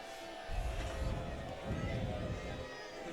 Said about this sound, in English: Crowd booing